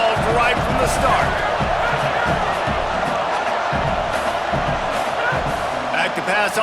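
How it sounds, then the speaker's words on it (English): Home crowd cheering in the EA Sports College Football video game, a steady loud roar of stadium noise running throughout, with a commentator talking over it. "this home crowd getting involved right from the start"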